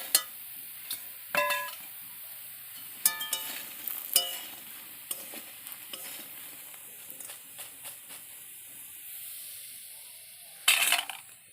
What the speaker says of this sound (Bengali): এবার আমি আলুটাকে নামিয়ে নেব।